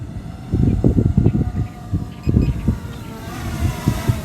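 Strong wind buffets the microphone outdoors in loud, low gusty bursts while a small SJRC F11 Pro drone is flown, with a faint steady whine beneath.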